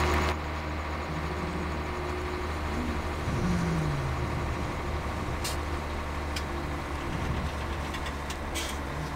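A tractor engine labours uphill hauling about twenty bales of hay, a steady loud diesel drone with low rumbling tones running throughout, plus a few brief higher clicks near the end.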